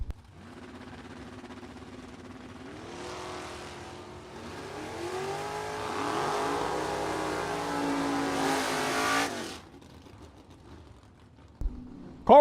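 A drag racing car, a Camaro in a Super Pro bracket time trial run, sounds out as a mid-range engine that idles, then revs up and roars loudly for several seconds before cutting off abruptly.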